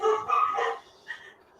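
Puppies let out a quick cluster of sharp, close barks, then a brief higher yip after a short pause, fairly loud against an otherwise quiet room.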